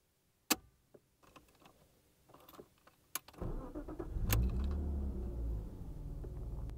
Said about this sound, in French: je vous propose de démarrer la voiture.